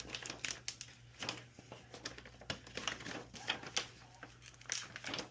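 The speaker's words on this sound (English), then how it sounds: "plotters have to be above 100 to cut, or right at 100 to cut the film the way we want it to cut" A 53-inch Vevor vinyl plotter cutting window tint film, a quiet steady run of rapid ticking and crinkling blade strokes with a low hum underneath, no talking.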